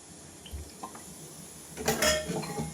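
A frying pan (bandi) is set on a lit stove and oil is poured in for Bhimavaram-style fish curry. There are a few light metallic clinks and a soft splashy pour, close and quiet, with no talking.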